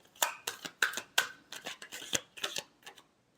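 Tarot cards being shuffled by hand in a run of crisp, papery riffles and slaps, about a dozen quick bursts over a few seconds, close and fairly quiet, ending in silence.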